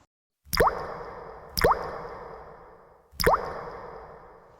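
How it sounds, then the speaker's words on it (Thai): Water drips from a ceiling in three separate heavy drops, each a sharp plop with a short ringing tail, evenly spaced about a second and a half apart in an otherwise quiet space. "ทำไมมีน้ำหยดจากเพดานเยอะแบบนี้"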